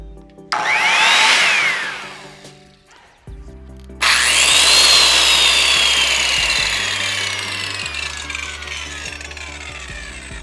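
A Skil SPT77WML worm drive circular saw whines loudly, revving up for a moment, dropping off, then starting again and running steadily at high pitch with a falling tone.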